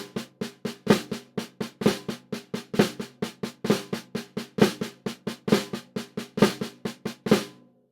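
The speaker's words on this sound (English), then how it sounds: "the flam paradiddle. Okay," A flam paradiddle rudiment is played on a drum as a continuous run of crisp, close strokes at an even, brisk pace. Flammed grace notes and accents recur in a repeating pattern throughout.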